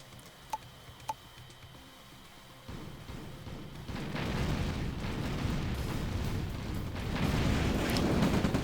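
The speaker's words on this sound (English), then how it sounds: "V2 firing into the tank that's already been killed" A V2 rocket launches and strikes an already destroyed tank in a real-time strategy game, with a few sharp ticks early on before a dense, rumbling blast swells and holds loud to the end.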